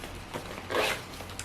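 Zipper on the compartment of a Ju-Ju-Be diaper bag, one short, close zip of just under a second rising out of quiet room tone; no talking.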